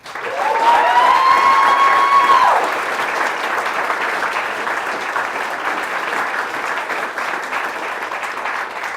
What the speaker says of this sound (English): we want to have a big round of applause for Alex Martalogu